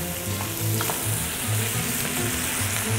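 Diced celery sizzles and crackles in a hot pan as it's added for jambalaya, a steady close-up frying hiss with soft stirring scrapes and no talking.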